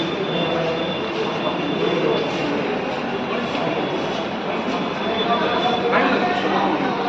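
A train passes on a railway with a continuous broadband rumble and rattle of wheels on track, loud and even throughout, while people talk over it.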